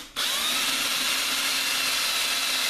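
A power drill starts abruptly and whirs continuously at close range, boring a pilot hole into an aquaponics fish tank quarantine filter, with a steady high whine and no talking.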